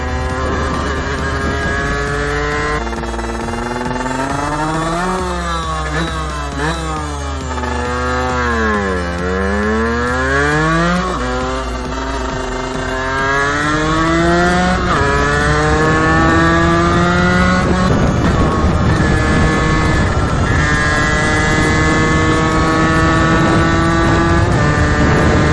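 A 50cc motorbike, a Derbi, is ridden with its small engine droning loud and close, the pitch sweeping up and down as it speeds up and slows, then holding high near the end.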